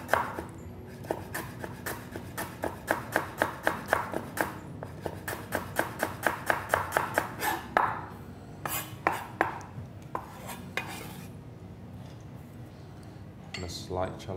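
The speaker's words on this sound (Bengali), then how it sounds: "yes I am gonna slice নাও আচ্ছা লেমন গ্রাস স্লাইস করতে" A knife slices lemongrass thinly on a board, a rapid, steady run of crisp chops close by, followed by a few scattered taps, with a voice speaking over parts of it.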